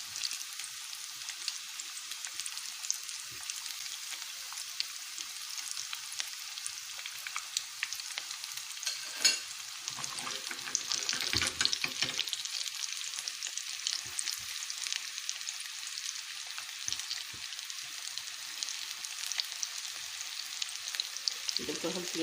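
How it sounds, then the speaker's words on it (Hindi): Rice koftas fry in oil over a low flame, giving a steady, even sizzle and fine crackle that runs throughout, with a brief louder bubbling burst midway. "दूसरी साइड पे ये फ्राई करने के लिए डाल दें।"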